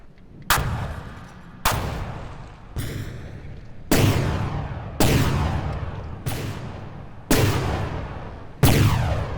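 Heavy 88mm dual guns in a From the Depths naval battle fire eight booming shots at roughly one-second intervals, each a sharp loud crack that rolls off in a long decaying rumble before the next.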